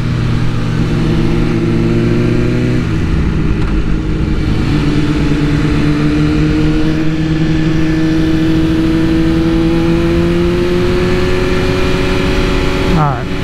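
BMW M1000RR superbike engine pulling hard in a wheelie, a loud rising whine climbing steadily after a brief drop, close up, with a voice talking over it.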